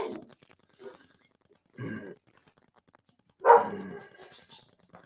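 Several scattered dog barks and gruff woofs at moderate distance, irregularly spaced, with the last one loudest.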